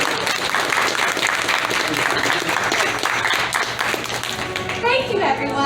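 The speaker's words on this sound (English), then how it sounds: "Can we get a round of applause for our actors, please?" Loud, close applause and clapping for actors at a Christmas show at Stone Mountain Park, a thick continuous burst of hands with children's voices and chatter mixed in toward the end.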